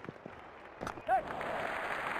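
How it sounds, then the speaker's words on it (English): Cricket stadium crowd at an IPL match between Chennai Super Kings and Mumbai Indians, rising into distant applause and cheering that swells after a brief whistle-like tone, fairly faint and steady toward the end. "Crowd going mad here."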